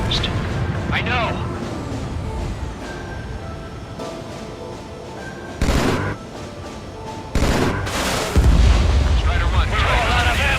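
Enemy aircraft gunfire in an aerial combat video game: dull booms and bursts of fire scattered over several seconds. Some hits are loud and close, and the rest sit under voices talking.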